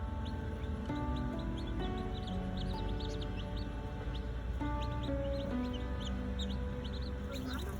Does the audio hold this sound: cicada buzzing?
no